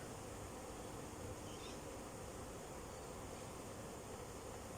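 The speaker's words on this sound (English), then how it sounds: "I have less bees on here. They're not agitated, they're just flying around." A steady, dense buzz of many calm bees flying close by around an open hive, a continuous droning hum with no voices.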